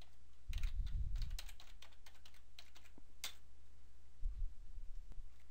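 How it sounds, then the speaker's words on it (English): Computer keyboard keys tapped in a quick run of light clicks for about a second, then a few scattered taps and a brief second flurry, close and fairly soft with no talking. "In the Search by Product Name box,"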